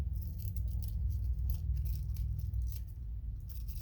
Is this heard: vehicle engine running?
no